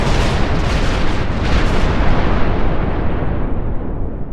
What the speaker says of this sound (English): Suddenly, the instigator hears a massive explosion from within the ship.